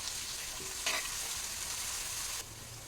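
Crushed ginger, garlic and green chili sizzle steadily in hot oil while being stirred, a dense close hiss with a brief scrape partway through and the sizzle dropping a little near the end.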